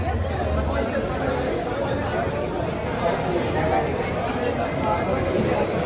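Crowd chatter fills a cinema food counter, a dense, steady babble of many voices at moderate distance, continuous without pauses.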